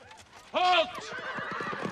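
A horse lets out a loud, close whinny in a medieval battle scene from the 1992 film Army of Darkness, followed by hoof clatter and commotion beneath shouted voices.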